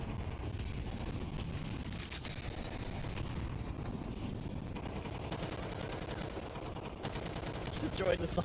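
Rapid gunfire bursts and explosions crackle continuously through a Counter-Strike tournament match, fairly faint and distant, with automatic weapon rattles layered over a low rumbling bed.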